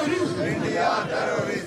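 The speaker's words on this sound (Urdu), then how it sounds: "بھارت دہشت گرد، پاکستان زندہ باد، پاک فوج زندہ باد کے نعرے لگائے۔" A crowd at a protest by Pakistani, Kashmiri and Sikh demonstrators chants slogans in unison, a loud, massed roar of voices rising and falling over a brief stretch.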